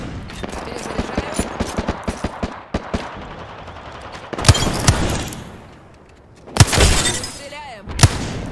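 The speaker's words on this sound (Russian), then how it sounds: "Стреляем." Rapid bursts of gunfire from the video game Apex Legends on PS4, with a quick string of close shots followed by a few louder, heavier blasts and breaking impacts. A voice talks in between the shots.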